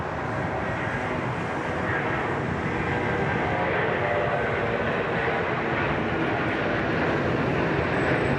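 A China Eastern airliner in SkyTeam livery takes off from Sydney Airport bound for Nanjing, with a loud, sustained jet engine roar that holds steady throughout.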